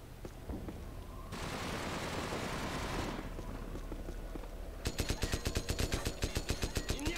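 Video game gunfire from Call of Duty MW Reflex on Wii during an online Sabotage match: a steady roar of firing, then a rapid string of sharp, evenly spaced automatic shots near the end, loud and close.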